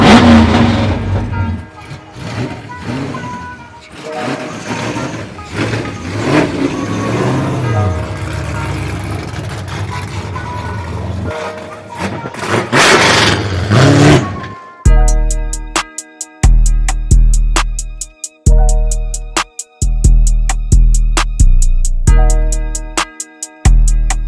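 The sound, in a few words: Tommy's drift car engine at wide open throttle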